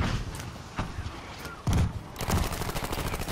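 A rapid bombardment of gunfire, with a few scattered heavy reports giving way to a dense, fast rattling barrage that carries on steadily without pause.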